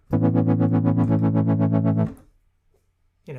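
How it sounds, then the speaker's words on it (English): A distorted synth note held for about two seconds, its tone pulsing rapidly as an LFO sweeps the filter cutoff in a fast, even wobble, then cutting off into near silence before another brief synth burst. "So now this LFO is mapped to the filter cutoff"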